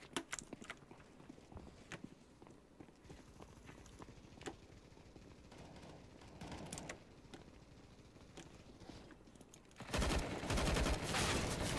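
Counter-Strike gunfire rings out as scattered sharp shots and clatter amid footsteps, quiet at first, then a loud burst of dense noise near the end.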